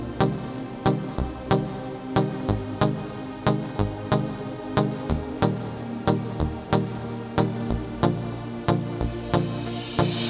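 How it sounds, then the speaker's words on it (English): Two layered synth pads joined by a plucked synth in a Latin pop beat, the plucks landing in a steady bouncing rhythm over sustained chords, clear and fairly loud with no talking. "And once you add the plucked synth,"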